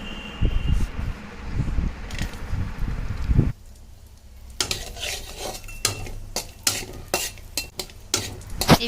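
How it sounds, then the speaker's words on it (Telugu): Cashews and raisins frying in a pan for a semolina sweet, with loud scraping and stirring at first, then a quieter stretch of light clinks of a utensil against the pan. "జీడిపప్పు వేగిన తర్వాత కిస్మిస్ కూడా వేసి వేపుకోవాలి."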